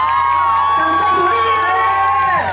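A crowd cheers and whoops loudly at an outdoor star concert held by a temple in Kaohsiung, with sustained sung and instrumental tones ringing on beneath the steady roar of the audience.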